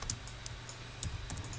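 Short bursts of clicking keystrokes on a computer keyboard while a command is entered, quiet and close, in irregular taps with brief pauses and no talking.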